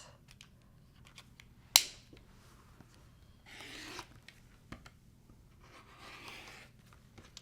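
Quilt fabric cut along a ruler, heard as a sharp snap near the start, then soft scraping strokes of the blade and faint clicks in a quiet room.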